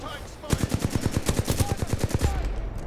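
Rapid automatic gunfire from the Flatline rifle in Apex Legends, a quick, evenly spaced string of roughly sixteen loud, close shots ending abruptly, with no talk over it.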